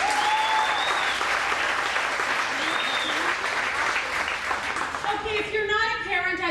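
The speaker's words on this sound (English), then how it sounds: "If you have a kid, I want to hear you by a round of applause." Audience applause at a live comedy show, a dense, steady wash of clapping and cheering from a full crowd that carries on for several seconds before easing.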